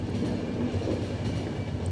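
Train running in the post-apocalyptic game The Final Station: a steady, loud low rumble of rolling wheels and engine with faint rhythmic rail clatter and no speech.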